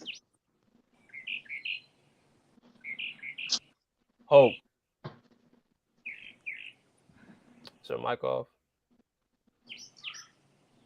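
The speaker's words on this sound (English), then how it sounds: "I hear birds." Birds chirp and tweet in short, fairly faint bursts through a caller's open microphone, heard between brief bits of speech.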